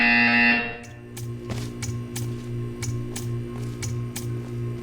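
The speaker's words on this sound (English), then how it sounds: "You will hear a buzzer." In the video game Portal 2, a loud tone sounds first, then gives way to a steady electronic hum broken by a series of sharp, evenly spaced clicks.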